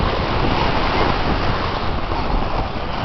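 Sea waves at a beach, a continuous loud roar of surf mixed with wind buffeting the microphone, steady throughout with no distinct individual breakers.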